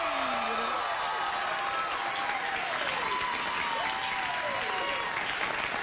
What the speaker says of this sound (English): just do the wild, real applause when I walk out